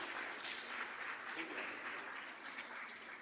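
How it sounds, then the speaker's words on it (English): Steady applause from a crowd, an even wash of clapping that holds at a constant level, heard faintly as if from a distance. "with a big applause, I would like to welcome Srimati Garima Srivastav on the stage."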